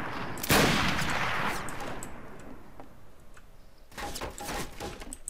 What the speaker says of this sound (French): Il tire à travers la fenêtre, je crois.